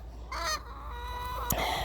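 Chickens in a backyard coop call out with squawks and honking clucks, a few overlapping raspy cries over a low steady rumble, fairly close and moderately loud.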